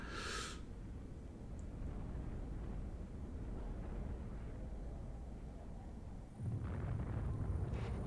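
Deep rumbling explosions from a bombing run in the naval-airship strategy game Highfleet, a low roar that builds and swells louder toward the end, with a brief bright crack near the start.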